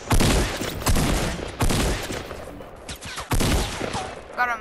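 Gunfire in the Fortnite video game, several sharp bursts of shots in quick clusters separated by short pauses, loud and close, with brief game sounds between them.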